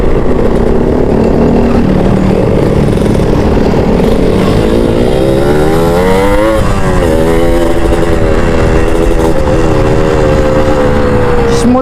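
Motorcycle engine running hard while riding, with a rattling part, a loud continuous drone whose pitch climbs and dips around mid-ride, heard close and steady throughout.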